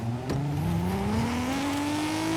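A Toyota Supra engine pulls hard in first gear, its pitch climbing steadily as it accelerates, loud and close, with a brief knock near the start.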